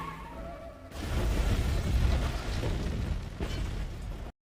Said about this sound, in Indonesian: Ia memasang sebuah bom dan jika ada telepon masuk, bom akan meledak.